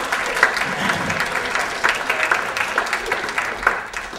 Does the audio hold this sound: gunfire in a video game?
no